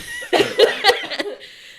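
A few short, harsh coughing bursts close by, clustered in the first second and tapering off into quiet breaths.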